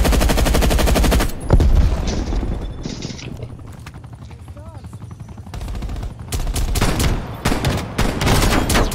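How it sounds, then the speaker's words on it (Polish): Shotgun blasts and heavy gunfire in the Call of Duty Black Ops Cold War VIP Escort game mode, loud dense bursts at the start and again near the end with a quieter stretch between. "ten shotgun to jest jednak mocarny"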